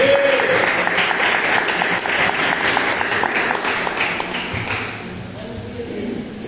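A church congregation at a praise and worship service claps to welcome a preacher, a dense, loud wash of applause that slowly fades toward the end.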